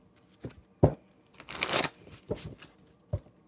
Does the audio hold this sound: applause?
no